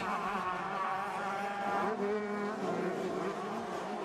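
Yamaha YZ125 two-stroke motocross bikes race side by side downhill at the FIM Europe Cup SuperFinale, their engines screaming with rising and falling revs, loud and close throughout.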